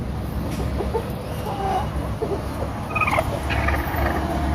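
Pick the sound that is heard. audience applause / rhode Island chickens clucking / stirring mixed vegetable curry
rhode Island chickens clucking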